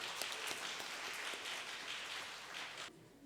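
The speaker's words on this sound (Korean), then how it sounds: "학생들이 떨지 않고 잘할 수 있도록 뜨거운 격려 박수 한번 부탁드리겠습니다." Warm applause from an audience at a Korean speaking contest for foreign students at Hanseo University, dense steady clapping that fills the room for about three seconds, then stops abruptly.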